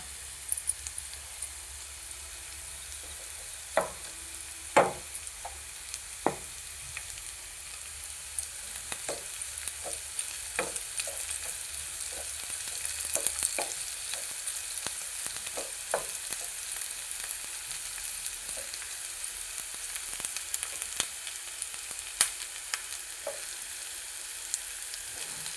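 Garlic and dried red chillies sizzle and fry in a pan for a nalleru pachadi, a steady close hiss punctuated by scattered sharp pops and crackles, with no talking.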